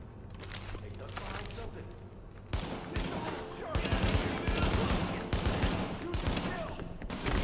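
Bursts of gunfire from a firefight in The Division video game, rapid overlapping shots growing louder and denser after the first few seconds, with voices talking underneath.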